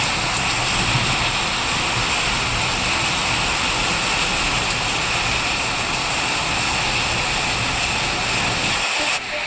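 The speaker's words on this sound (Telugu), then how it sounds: "చూడండి వర్షం ఎంత బాగా పడిందో సౌండ్ కూడా వినిపిస్తుంది కదా" Heavy rain pours down in a continuous, loud, dense roar with no break, cutting off abruptly at the very end; no talking is heard.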